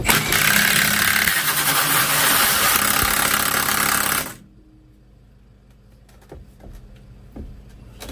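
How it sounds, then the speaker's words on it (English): A half-inch drive impact gun with a 24mm socket, run in reverse to wind out an HGV brake chamber, gives a loud, dense, continuous rattling whir for about four seconds, then stops abruptly, leaving faint workshop knocks. "24mm socket, half inch drive gun, reverse"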